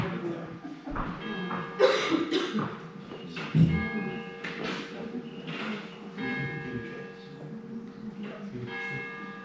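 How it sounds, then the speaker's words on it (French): Church bells ring in the distance during a Cambes municipal council meeting, sustained tolls layered under nearby coughing, throat clearing and room noise. "j'entends les cloches"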